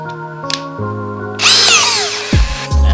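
An XCORT cordless drill boring into wood, its motor whirring steadily, then rising into a loud, shrill bite as the bit cuts in and winding down with a short drop.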